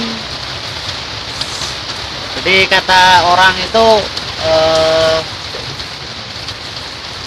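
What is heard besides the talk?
rain falling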